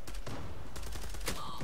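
Gunfire in the online shooter game Zula comes as a dense, rapid volley of overlapping shots that lasts for under two seconds.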